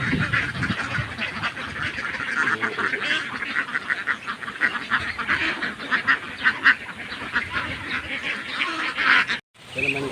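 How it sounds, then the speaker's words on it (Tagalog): A flock of farm ducks quacks busily and continuously, close and fairly loud, with some honking calls mixed in and a person talking now and then. "Ito naman guys, yung mga pato."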